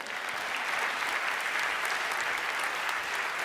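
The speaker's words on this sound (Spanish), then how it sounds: "Aplausos para ChatGPT" An audience at a science and technology conference breaks into continuous applause, a dense, even patter of clapping hands holding at a moderate level from start to finish with no voices on top.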